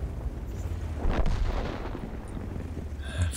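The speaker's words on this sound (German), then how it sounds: "Oh, ich glaube, der Schuss ging total vorbei." A single tank cannon shot in World of Tanks booms once, loud and close, with a rumbling tail that fades slowly afterward over steady low engine hum.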